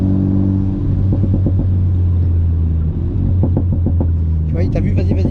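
Race car engine at Magny-Cours circuit, loud and close, a sustained low drone that climbs in pitch as it accelerates, with a voice talking over it.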